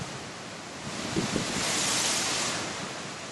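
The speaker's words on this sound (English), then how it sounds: "those are some huge waves" Heavy surf on a choppy sea off East Indonesia, a broad continuous roar of large waves swelling louder midway, with wind buffeting the microphone.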